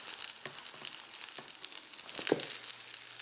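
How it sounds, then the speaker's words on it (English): French toast sizzling steadily in a frying pan, a soft, close crackle and hiss with a few light scraping taps as a spatula slides under it to flip it. "Now I'm going to flip it with my spatula"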